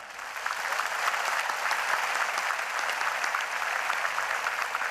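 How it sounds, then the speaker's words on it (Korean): A large congregation at a 2018 joint Easter worship service of Korean churches applauds in a broad, steady wash of clapping that swells in after a moment and holds evenly throughout, spread wide and somewhat distant. "우리 힘차게 박수해 주시기를 바랍니다"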